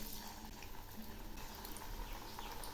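Mung-dal-filled puli pitha dumplings frying in hot oil make a faint, steady bubbling sizzle with tiny pops throughout.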